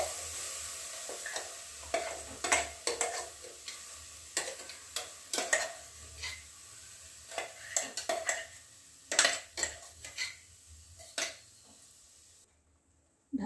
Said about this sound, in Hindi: अब हम एक कढ़ाई लिए हैं, इसमें इसको डालकर पका लेंगे।